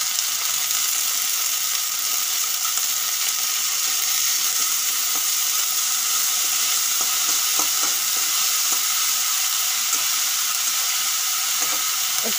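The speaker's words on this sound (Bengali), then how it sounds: "একটুক্ষণ ভাজা করা লাগবে শুকনো চিংড়ি।" Dried shrimp frying in a pan with onion and garlic, a steady loud sizzle and hiss running throughout with light stirring scrapes, no voices.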